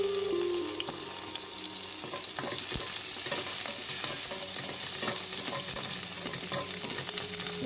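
Garlic sautéing in coconut oil in a pan for pancit bato, a continuous loud sizzle and crackle with occasional stirring scrapes and clinks, steady throughout and close up.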